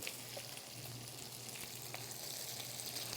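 Onions fry in bacon fat with a steady, soft sizzle and crackle, a continuous hiss with faint pops and no talking.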